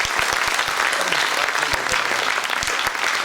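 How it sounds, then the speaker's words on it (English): A conference audience claps for the event's film guy, a sustained round of applause with sharp individual claps close by and a faint voice briefly underneath. "I think a round of applause goes to John"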